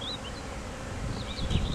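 Honeybees buzz around five beehives on an industrial packaging site in Trois-Rivières, a soft, continuous drone with a few passing wingbeat whines close by.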